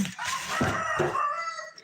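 A farmyard rooster crows once, a brief, loud, hoarse cock-a-doodle-doo with a rising and then falling call, close by and alone.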